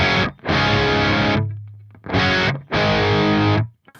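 Heavily distorted electric guitar played through an Axe-Fx III modeling a Friedman Smallbox amp with a York Audio cab, loud chugging chords in two bursts with a brief sustained ring between and a short gap.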